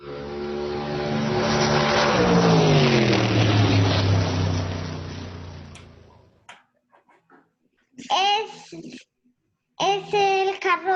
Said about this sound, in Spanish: Era el carro verde.